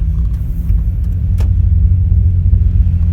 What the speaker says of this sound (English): Now we're just cruising in first gear.